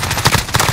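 Rapid bursts of video game gunfire crackle in quick succession, several sharp shots spaced through a short, loud stretch of battle action.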